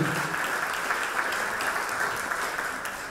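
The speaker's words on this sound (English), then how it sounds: "Another round of applause for the students who are up here" Dense, steady applause from an audience at a gala program, honoring students on stage, sustained evenly throughout at moderate distance.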